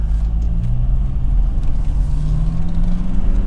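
A 2003 Honda CR-V 2.0 i-VTEC SE Sport automatic running on a road test, with a steady, loud low engine and road rumble droning throughout and no talking.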